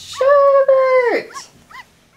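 A dog whimpers in a drawn-out, falling whine, followed by two short yips, close and fairly loud with no talk.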